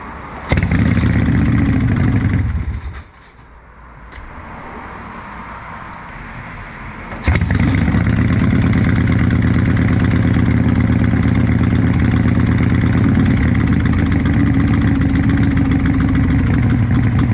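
A Harley Shovelhead motorcycle engine cranks and catches, then after a brief lull roars back and settles into a loud, steady, lumpy idle that runs on without talk.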